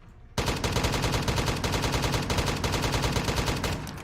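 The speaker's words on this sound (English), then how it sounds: "Let me just full auto with the AK" Full-auto AK rifle fire in a video game, a sustained rapid burst of loud, dense gunshots running almost the whole clip after a brief quiet start, with no talk.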